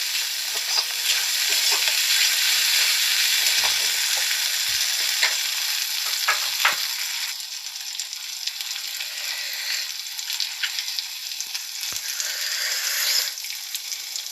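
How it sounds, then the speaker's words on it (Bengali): Paneer for a vegetarian dish is stirred and fried in a pan with a loud, steady sizzle running throughout, along with a few faint scrapes of the spoon. "ভালো করে নাড়াচাড়া করতে থাকতে হবে"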